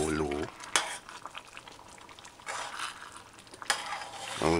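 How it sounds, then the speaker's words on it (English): Chili being stirred in a pot on a stove set to low heat, with a few scraping, clinking spoon strokes against the pot over a soft, steady sizzle, heard close and without talk. "Stir it in a few times."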